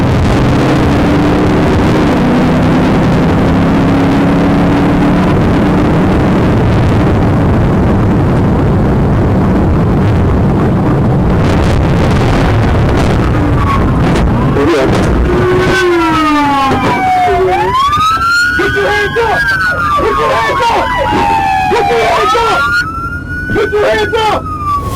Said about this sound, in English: a high-speed pursuit of a blue Dodge Challenger